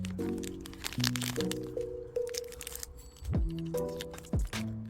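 Someone tears open a square Chiikawa random magnet package at close range, making sharp crackling and crinkling foil-and-plastic sounds, with a soft voice and a faint musical background.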